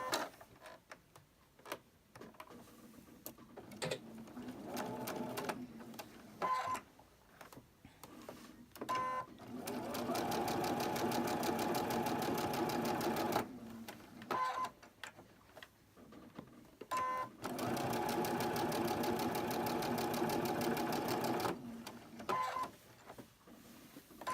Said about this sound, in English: Let's go ahead and sew it.